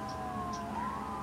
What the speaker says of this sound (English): Sorry if you can hear sirens in the background.